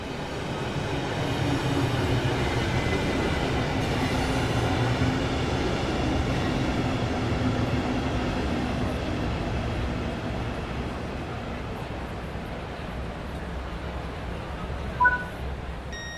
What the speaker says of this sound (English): Your train has arrived.